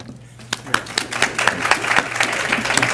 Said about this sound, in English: they deserve a little round of applause or something